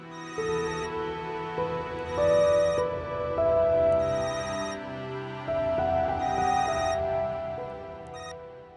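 A telephone rings with a repeating electronic melody, steady and moderately loud, no voices present.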